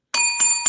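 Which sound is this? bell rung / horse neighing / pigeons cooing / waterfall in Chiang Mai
bell rung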